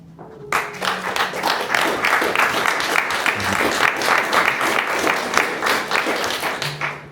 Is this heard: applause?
yes